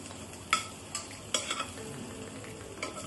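Ginger fries in a pan while a spoon stirs it, sending several sharp scrapes and taps over a quiet, low sizzle, close by and without speech.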